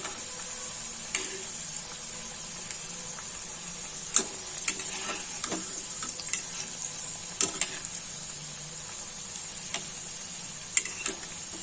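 Amaranth flour pakoda fry in oil over a low flame, a thin, steady sizzle laced with scattered small ticks and pops, fairly quiet and continuous.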